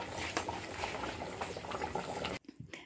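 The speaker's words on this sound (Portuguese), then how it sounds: "Aí você deixa fervendo mais um pouco e olha que delícia." Fish and coconut sauce, a Brazilian moqueca, bubbling in a clay pot on the stove: a steady close crackling boil with small pops, which drops away abruptly near the end to a few faint bubbles.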